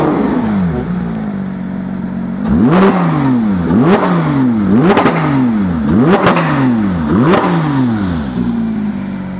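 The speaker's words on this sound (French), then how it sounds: "mets un ou deux bons coups de gaz" A Porsche 991 GT3 Clubsport race car engine is blipped about six times in quick succession, each sharp rev spiking up and falling back from a low, loud idle, with the revs cut short each time.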